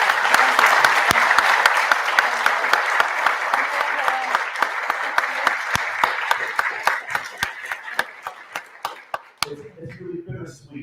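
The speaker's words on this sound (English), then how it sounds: "So let's just give once again a very big round of applause." A big round of applause from an audience at a talk, loud and dense at first, then thinning into scattered individual claps before a voice begins speaking at the end.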